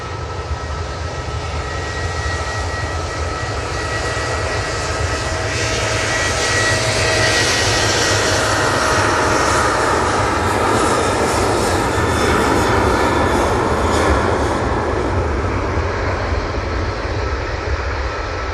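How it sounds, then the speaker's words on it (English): A Ryanair jet arriving at Manchester Airport from Alicante sends out a sustained broadband engine roar with a whining tone, swelling gradually toward the middle and staying loud and continuous throughout. "It is the Ryanair from Alicante, just passing John Lewis"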